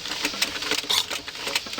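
A sewing machine stitching lace onto fabric runs in a steady, close, fast rattling rhythm of needle strokes, alone for under two seconds.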